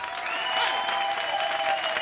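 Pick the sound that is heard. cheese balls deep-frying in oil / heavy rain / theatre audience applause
theatre audience applause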